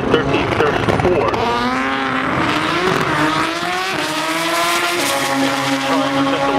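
A Pro Rear Wheel Drive drag race car makes its pass down the Raceway Park quarter-mile at Englishtown, its engine roaring loudly and rising in pitch as it accelerates, while an announcer's voice continues over it.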